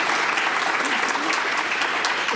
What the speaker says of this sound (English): deserve a clap